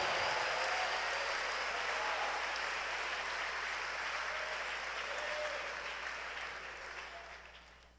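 A church congregation applauds loudly and steadily in a sustained wash of clapping that gradually fades away toward the end.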